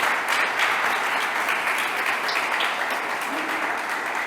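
A church congregation applauding during a sermon, a dense, loud, continuous wash of clapping with a faint voice underneath.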